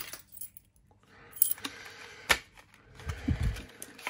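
A bunch of keys clinking and jangling near a Lockwood 120N and 45 padlock, with scattered small metallic taps and rattles and a slightly louder shuffle toward the end, no speech.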